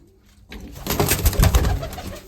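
Pet pigeons coo loudly at close range in a cluster of throaty, rolling calls that begin after a quiet half-second and continue to the end, with no talking.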